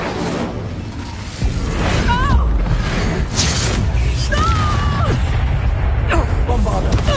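A fire spell cast in a Harry Potter video game, a roaring whoosh of flame following a shouted incantation, with steady loud crackling rumble and scattered game effects over continuous background noise.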